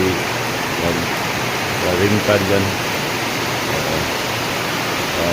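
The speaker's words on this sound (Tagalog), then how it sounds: "Ang lakas ng ulan." Heavy rain pours steadily in a dense, loud hiss, with a voice speaking briefly partway through.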